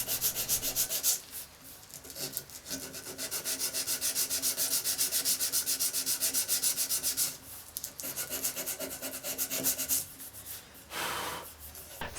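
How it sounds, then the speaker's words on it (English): Steady rhythmic rasping of hand sanding a wooden concave fan carving, close and continuous, with brief pauses between strokes. "The last step is to hand sand the entire carving to even out the rays"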